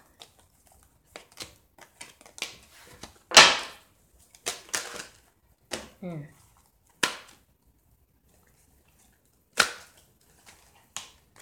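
A deck of tarot cards is shuffled close by, giving irregular sharp flicks, slaps and brief riffles separated by short pauses.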